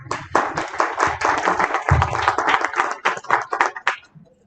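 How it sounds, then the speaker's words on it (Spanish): An audience at an environmental education congress claps as a speaker is welcomed, lively uneven clapping from a modest crowd that builds, holds, then thins out and stops near the end. "Le cedo la palabra y un aplauso,"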